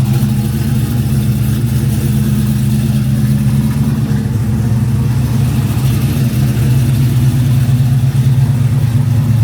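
An LS-swapped 1985 Pontiac Grand Prix engine runs loud and close with a steady, throbbing low rumble that holds through the whole stretch.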